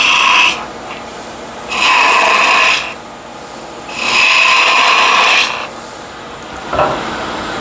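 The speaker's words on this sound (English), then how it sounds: "Then I switch to spindle gouge. Clip those corners away." A spindle gouge cuts wood on a lathe in three loud, close rasping passes of about a second each, separated by quieter gaps of the machine's low running hum, with a short tap near the end.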